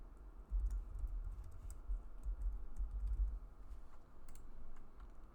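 Rapid, close typing on a computer keyboard with irregular soft key clicks, quiet and alone with no voices.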